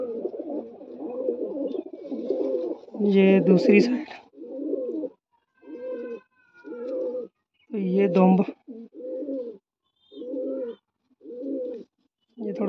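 A long-feathered female pigeon coos in a steady series of short, close, soft bursts with brief pauses between them, while someone talks over some of the calls.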